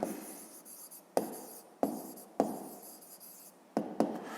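Pen or chalk writing out a fifth-grade math solution: scratchy strokes broken by several sharp taps at roughly even intervals, close and fairly quiet, with no talking.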